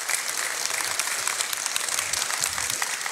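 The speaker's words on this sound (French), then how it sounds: "Je voudrais qu'on l'applaudisse" A theatre audience at the Sorano applauds at a performance: full, continuous clapping from a large crowd, loud and close throughout, with no speech on top.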